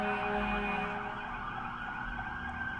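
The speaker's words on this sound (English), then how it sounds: "You hear this? That's the sirens." A wailing emergency siren outside a window sounds continuously, fairly distant and muffled, rising and falling in pitch with no voices.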